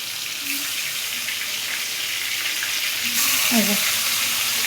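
Tilapia fish pieces frying in hot oil give a steady loud sizzling hiss that surges when another piece drops in, with brief clatters of the pan.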